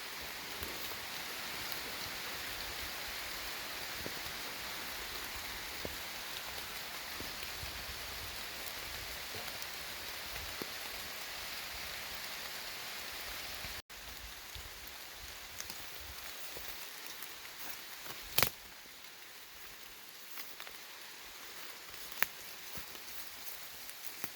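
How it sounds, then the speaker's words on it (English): Rain falls on a canopy over an outdoor garden, a steady close patter with occasional louder drips, easing slightly partway through. "Just a little bit rainy under the canopy."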